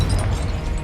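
Confringo blasting curse going off in Hogwarts Legacy, a short loud burst of booming noise, close and dense, with no voice over it.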